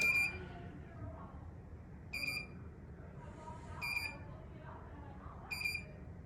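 A cabin window shade mechanism gives four evenly spaced high electronic beeps, each a short burst about every second and a half. They sound moderately close over a quiet room background.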